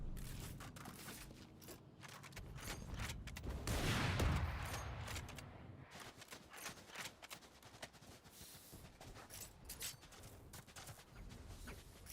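Gunfire from a gunfight in the tactical shooter game Valorant during a competitive esports match: bursts of rapid shots and impacts, loudest in a dense flurry near the middle, then scattered sharper shots continuing to the end.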